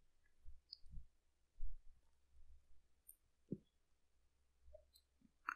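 Computer mouse clicking during a Citrix XenDesktop 7.9 installation, a handful of faint, sparse clicks at irregular intervals in a quiet room.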